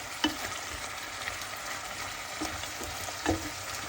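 Adobong sitaw, string beans cooked adobo-style, sizzles steadily in a pan while being stirred, with a few soft scraping knocks from the spoon over the continuous frying hiss.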